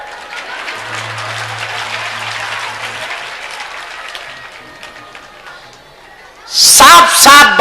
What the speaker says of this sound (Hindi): तो तुम ताली बजा रहे हो